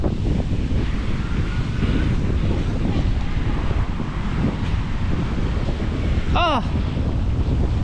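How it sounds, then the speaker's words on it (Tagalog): Sea waves and steady wind at the seashore, a continuous loud rush of surf with wind buffeting the microphone throughout; a brief vocal exclamation breaks in near the end. "update ko kayo dito sa tabing dagat. Ganun pa rin. Lapit na yung dagat."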